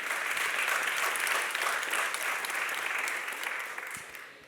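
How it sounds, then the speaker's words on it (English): An audience at a fireside chat gives a warm round of applause, dense even clapping from many people that holds steady and then fades slightly toward the end, with no voices over it. "Give them a big round of applause, please."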